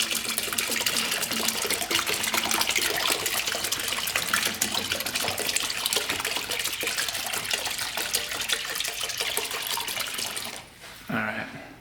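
Simple Green cleaning solution poured into a container for soaking carburetor parts from a Honda three-wheeler, a steady close splashing gush that runs for about ten seconds and then stops abruptly.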